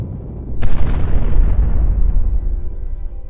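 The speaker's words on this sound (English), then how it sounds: "They resembled a series of explosions or gunshots." A single deep boom heard in the sky over London, recorded on a phone, rolls out and fades slowly over a few seconds, sounding distant and heavy, with a rumbling low tail and no voices.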